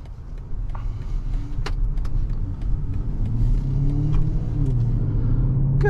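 A 2024 BMW X5 M60i with a V8 engine accelerates on the road, its engine note rising in a steady, deepening rumble from inside the cabin.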